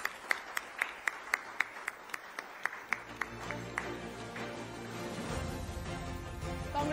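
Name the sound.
audience applause at awards ceremony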